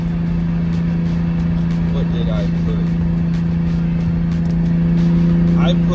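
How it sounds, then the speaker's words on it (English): Sports sedan cruising on a test drive, a steady engine and road drone heard from inside the cabin with a constant low hum and faint chirps on top. "the car is driving good, feeling good"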